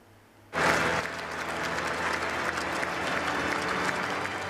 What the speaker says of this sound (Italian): Un lungo applauso, iniziato nel piazzale del Duomo di Milano e proseguito all'interno